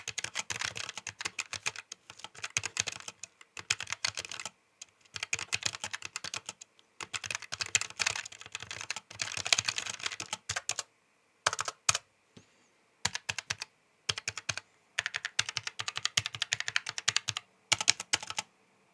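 Typing on a Keychron K1 V4 low-profile mechanical keyboard with red switches: bursts of rapid, close, crisp key clacks at an unhurried pace, broken by short pauses, with no voices.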